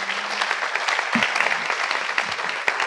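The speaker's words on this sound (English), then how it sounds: "So a round of applause for them." An audience applauding a panel at a marine conservation side event, continuous even clapping with a few louder individual claps and faint voices underneath.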